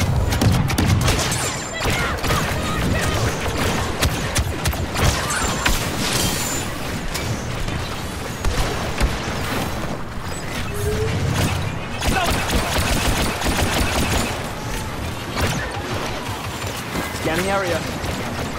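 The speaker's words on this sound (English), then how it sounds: "Mortar strike and beat the location." Mortar strikes in a military strategy video game land as a steady barrage of dense explosions and crackling battle noise running throughout, with voices speaking over the din.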